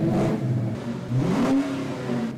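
Eight-cylinder car engine revving close up, rising in pitch through two quick blips and then a longer climb before settling, loud and alone.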